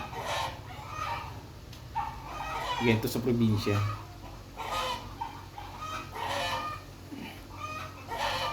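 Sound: chickens clucking and crowing

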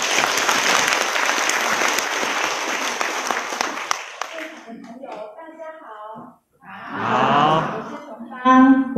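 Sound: applause

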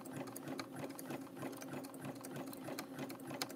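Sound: sewing machine stitching a coaster at medium speed

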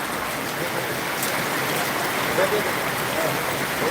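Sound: rainwater flowing through a flooded vegetable market

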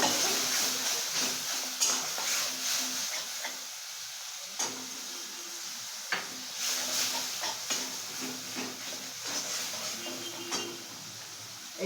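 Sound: whisked sour curd added to stuffed bitter gourd masala and stirred

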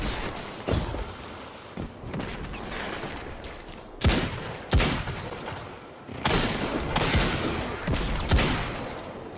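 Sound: shotgun fire in Crucible video game

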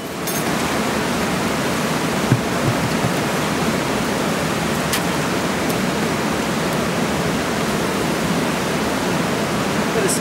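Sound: bucket of cold water poured into pool

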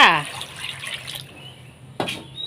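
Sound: clean water poured onto pork for chili paste

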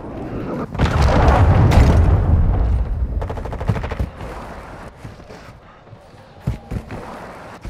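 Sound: cruise missile explosion in a video game

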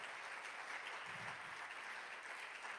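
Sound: congregation hand clapping

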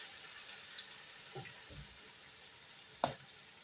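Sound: potato pancakes deep-frying in oil

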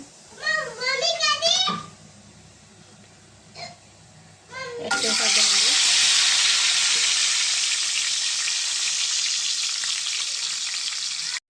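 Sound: eggs frying in oil with turmeric

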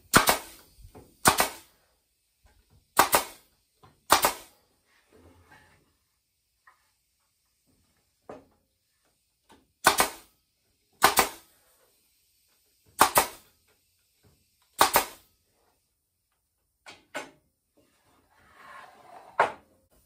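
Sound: stapling slats of a beehive slatted rack

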